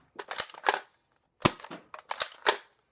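A Nerf toy blaster fired repeatedly, sharp close plastic clacks and pops in quick pairs and triplets with brief pauses between bursts, loud and dry with no talking.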